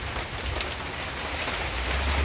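Steady rain patters densely on surfaces nearby, a continuous hiss with soft low rumble underneath and no voices.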